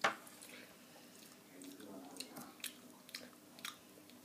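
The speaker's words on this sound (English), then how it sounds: "Can you hear her munching away?" Someone munches on an iced cake nearby, with faint, soft wet chewing and a few small crunchy clicks at a quiet level.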